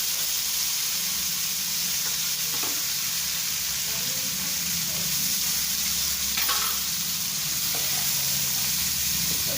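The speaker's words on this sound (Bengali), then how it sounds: "পেঁয়াজগুলো আমি একটু শ্যালো ফ্রাই করে নেব" Two large onions shallow frying in oil in a pan, a steady loud sizzle and hiss running throughout with occasional stirring scrapes, no talk.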